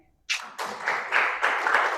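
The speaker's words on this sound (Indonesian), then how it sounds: "Tepuk tangan bagi Tuhan kita." Church congregation applause during a sermon, beginning suddenly after a brief silence and swelling into a close, steady burst of many hands clapping, rising in waves.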